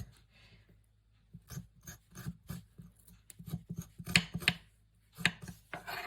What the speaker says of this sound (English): It's one of the quickest and safest ways to get the skin off of your ginger